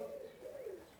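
A racing pigeon coos softly, a brief low murmuring call heard faintly against quiet background noise.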